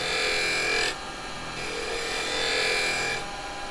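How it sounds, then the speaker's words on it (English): Round carbide chisel cutting wood on a lathe, a steady broadband rasping hiss that drops briefly in level partway through and then resumes at full strength, close and continuous with no talking. "I'm going to go to the round chisel"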